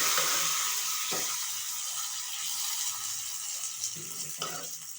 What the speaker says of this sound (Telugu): ఇప్పుడు ఆ పోపు దాంట్లోకి వేసేద్దాం.